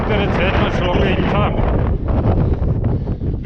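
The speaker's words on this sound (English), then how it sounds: "Very windy suddenly again." Strong wind gusts buffet the microphone in the Outeniqua mountains, a loud continuous roar with rumbling low-end that eases slightly partway through, while a person speaks over it.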